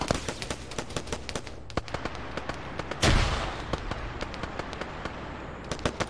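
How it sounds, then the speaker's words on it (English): Rapid bursts of gunfire in a tactical shooter game as players fire on each other, sharp repeated cracks throughout with a louder blast midway, no talking. "These guys realize they're shooting each other."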